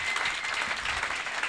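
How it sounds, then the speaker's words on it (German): An audience at a Stuttgart comedy clash show applauds comedian Christian Langer: a brief, continuous patter of many hands clapping at moderate loudness. "macht nochmal mindestens einen so großen Applaus für den Christian, der das wunderbar gemacht hat"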